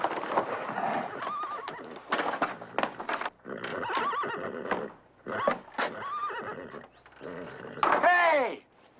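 Several horse whinnies and snorts, loud and close, with clip-clopping hooves, ending in one long, high, shrill neigh.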